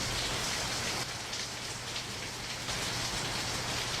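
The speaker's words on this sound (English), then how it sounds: "That's just downpour." Heavy downpour rain from a studio sound plugin, a dense continuous hiss of rainfall that dips slightly in level partway through as a volume knob is adjusted, with no speech.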